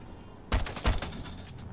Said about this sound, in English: Oops, my bad. I shot by accident.